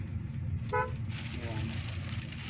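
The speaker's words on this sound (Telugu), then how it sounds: "హారన్ టచ్ చేయండి" One short horn toot from a Kia Sonet over a low, steady engine hum.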